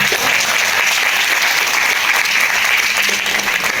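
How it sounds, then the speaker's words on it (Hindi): Steady, dense applause from a large audience at a comedy poetry show, loud and continuous throughout with no talking. "पर तालियां ऐसे बजाओ कि कवि कहे क्या बात है"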